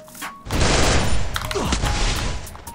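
A burst of sustained, rattling MP40 gunfire in Free Fire erupts after a brief quiet start and continues loudly with overlapping shots and booms.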